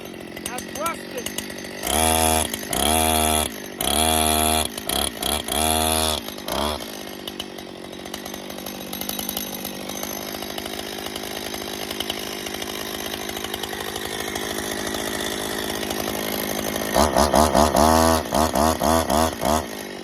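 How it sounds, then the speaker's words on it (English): A Husqvarna 61 chainsaw cuts rusted metal, loud and close: its two-stroke engine rises in repeated revving bursts, drops to a steady idle drone, then surges again near the end. "I'm gonna cut it off because I cannot believe this. It is a Husqvarna 61 right here."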